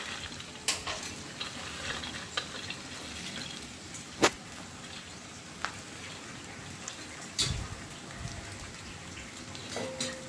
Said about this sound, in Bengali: বাদামটাকে আমি এটার মধ্যে ছড়িয়ে দিলাম, দিয়ে একটুখানি মিশিয়ে দেবো।